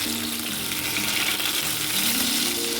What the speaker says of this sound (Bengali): দু পিঠ উল্টে পাল্টে ভাজা হয়ে গেছে,